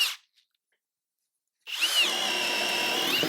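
A Kobalt cordless drill running in second gear on a fully charged 4 amp-hour pack whirs loudly after a short silence, a steady high motor whine with a brief pitch dip at the start and end of the run.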